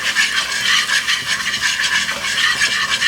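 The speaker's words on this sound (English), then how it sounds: "kind of a paste or a roux for our sauce. So I am going to whisk that in." A whisk stirring a roux paste into sauce in a pan, a close, steady rhythmic scraping and swishing with regular strokes and no talk.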